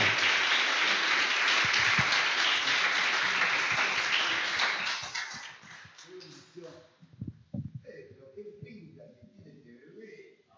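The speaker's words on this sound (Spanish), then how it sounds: "Den un aplauso al Señor." Congregation applause in a church during a baby dedication, loud sustained clapping for about five seconds that fades out, followed by sparse sounds and a voice speaking.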